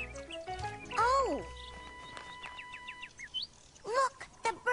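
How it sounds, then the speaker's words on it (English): Several bird chirps and tweets, some in quick rising trills, over a quiet background with faint other sounds. "Look, the birds are coming back."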